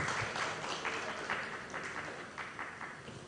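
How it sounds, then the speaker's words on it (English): A room full of people at a halal summit claps steadily, a dense patter of applause lasting a few seconds. "One more time, big applause."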